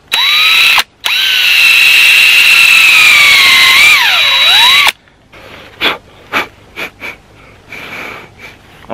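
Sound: drilling tap holes in maple trees

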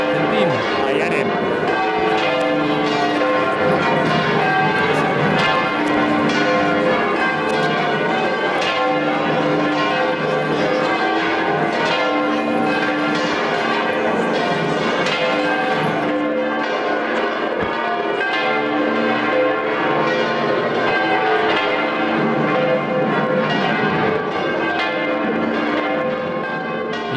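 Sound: church bells ringing at full volume during procession

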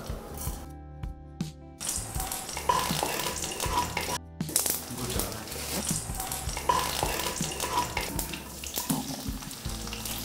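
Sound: mustard seeds sizzling in hot oil for orange rasam

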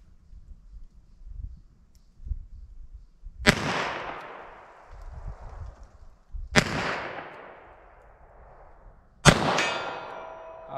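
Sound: gunshots firing .38 Short Colt rounds

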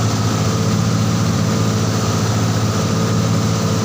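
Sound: motorboat engine running

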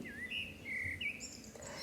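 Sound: baby birds chirping in a nest

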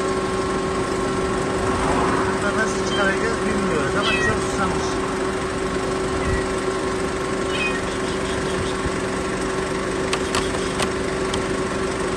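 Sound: kitten meowing, trapped inside a car

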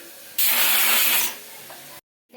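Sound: pressure cooker whistle releasing steam

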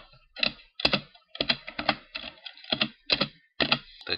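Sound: typing a password on a computer keyboard

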